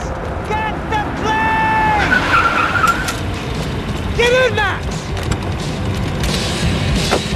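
Car engine and skidding tyres during a driving sequence in the video game Max Payne 3, with loud screeches and engine roar over constant rumble, mixed with shouted voices.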